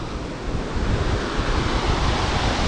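A waterfall on the Munnar Gap Road roars as water flows down, a dense, steady rushing wash, loud and close, with no voices.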